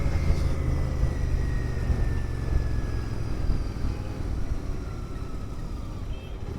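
The engine of a GT 650 motorcycle drones steadily while being ridden on the road at speed, with wind rush running continuously underneath and no talking over it.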